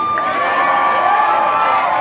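A crowd at a live gig at Crowbar in Sydney cheers and shouts for a guest musician, a steady dense roar with whoops and whistles rising above it.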